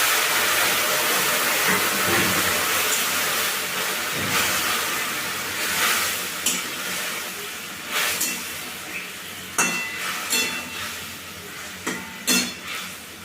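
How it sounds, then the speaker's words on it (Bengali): Curry being poured into a pan of fried onion, garlic and green chili, giving a steady loud sizzle with scattered bubbling pops and scraping clinks toward the end, no talk over it. "পেঁয়াজ রসুন কাঁচা লঙ্কা ভাজা হয়ে গেছে। এবারে তরকারিটা ঢেলে দিচ্ছি।"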